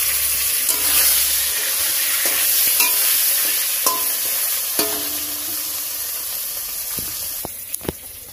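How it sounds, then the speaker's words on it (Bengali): Raw green banana pieces fry in hot oil with cumin seeds in a pan, giving a steady, loud, close sizzle throughout, broken by occasional clacks and scrapes of a stirring utensil. "তো গোটা জিরে তেলের পর দিয়ে এবার কাঁচকলাগুলো আমি ভেজে নিলাম।"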